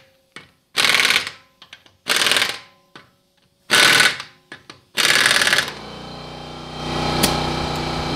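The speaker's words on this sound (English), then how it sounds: "Now we're going to torque them." Impact wrench running down and torquing wheel lug nuts in a tire shop, four or five loud, close buzzing bursts with short gaps between them, then a steady air compressor hum.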